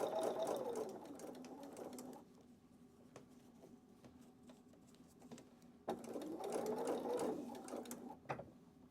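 A sewing machine stitches curved quilt piecing with a quarter-inch foot, running in two steady bursts at the start and near the end with a quiet pause between, close and fairly soft.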